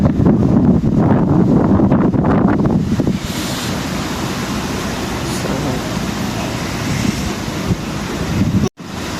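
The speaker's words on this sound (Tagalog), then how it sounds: "wind, big wind." Strong winter wind in Hong Kong buffets the microphone in a loud, continuous roar, with surf-like rushing and a brief voice at the start.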